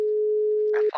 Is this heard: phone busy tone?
yes